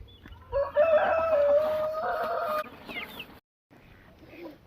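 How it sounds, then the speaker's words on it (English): Two chickens loose inside a garage cluck and crow close by, with a loud stretch of fowl calls followed by a few softer clucks and a short pause. "Somehow the chickens got in here"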